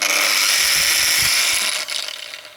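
An angle grinder fitted with a cutter shapes a convex chamfer on a stone edge, giving a steady, loud whining grind that eases off near the end.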